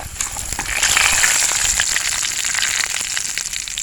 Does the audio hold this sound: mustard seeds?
yes